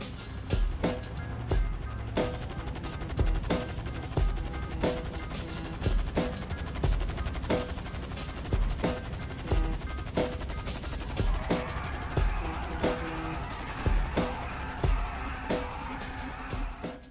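Gunfire in the video game GTA 5, with repeated bursts of shots cracking at a regular rhythm across the whole stretch, loud and close over a busy game background.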